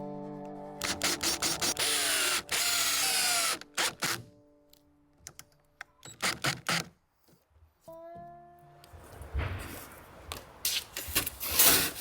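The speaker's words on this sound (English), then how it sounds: "I also put 2 of these Timberlock screws in every single one of the floor joists" Power drill driving Timberlock screws into the wooden floor joists of a tiny cabin built on a trailer in Alaska: loud, close whirring bursts of varying length, broken by clicks and pauses, with more scattered rattling toward the end and no talk.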